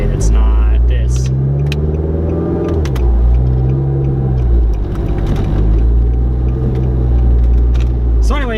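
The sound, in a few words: Nissan Juke driving with new motor mounts and coilovers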